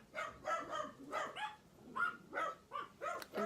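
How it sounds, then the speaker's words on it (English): Three dogs bark indoors at home in a quick series of sharp yaps and barks, moderately distant, with short gaps between them. "my house is always so loud. I have 3 dogs"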